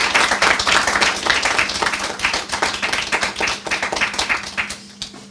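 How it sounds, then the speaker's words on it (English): An audience at a poetry reading claps for three poets in a dense, steady round of applause that thins toward the end. "our three poets another round of applause."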